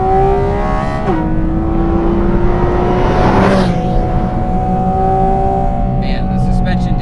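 A Porsche Cayman GT4 RS engine holds a high, tonal rev after a downshift to second, its pitch dipping and climbing again over a loud, continuous roar inside the car, with a voice faintly present.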